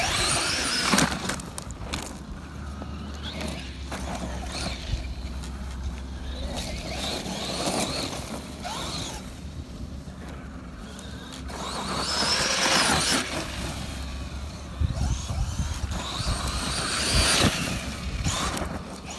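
A Traxxas Maxx 4S RC car drives over grass, its electric motor whining and surging in loud waves, with rustling of the tyres through the turf.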